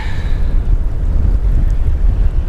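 Strong wind buffeting a microphone on a fishing boat out on the water, a loud continuous low roar and rumble, with no talking.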